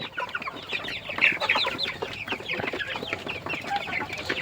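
Dense, continuous chorus of quail chirping and clucking at close range on a farm, many overlapping short calls with no pauses.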